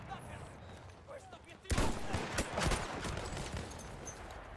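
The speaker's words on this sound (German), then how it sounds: "Schuss hat natürlich gesessen" Gunfire in the video game Battlefield 1: a sharp shot breaks in suddenly, followed by a burst of rattling blasts and rumble, over quiet game ambience, with someone talking.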